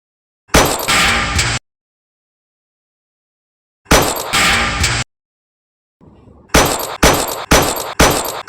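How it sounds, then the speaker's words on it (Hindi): Gunfire in a short film shootout: two long sustained bursts separated by silence, then a rapid run of sharp, loud shots close to the listener. "उनकी बुलेट्स खत्म हो गई, शूट कर।"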